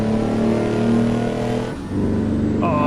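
A Mack R truck with a Detroit two-stroke engine in American Truck Simulator on a Nebraska road: a loud, close, droning engine roar with a brief dip midway, like a gear change, before the growl builds again.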